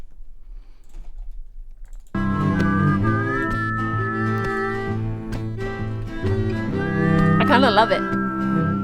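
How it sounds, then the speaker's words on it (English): A whistle played during a music recording session, sustained melodic tones with wavering pitch and a brief trill near the end, over background instrument tones; a person speaks briefly. "does this whistle bring something to the table?"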